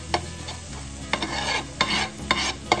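Pav bhaji masala is stirred in a hot pan, a close sizzle broken by about six rhythmic spatula scrapes, with no voices.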